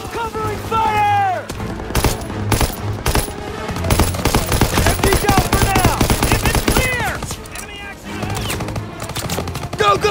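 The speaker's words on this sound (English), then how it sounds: "You gotta suppress the machine gun." Call of Duty machine gun fire, loud and close with rapid bursts and scattered shots from other weapons, overlapping with shouted voices in a World War II battle scene.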